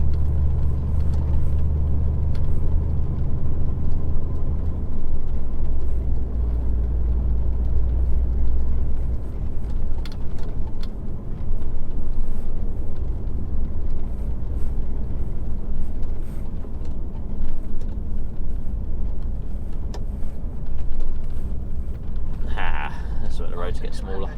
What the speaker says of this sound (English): Oh, car coming up.